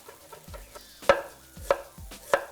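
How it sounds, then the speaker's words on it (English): A knife rough-chops scallions on a cutting board, giving three sharp, loud blade strikes against the board at an even pace, with a few softer taps between them. "I'm gonna chop some scallions, just a rough cut."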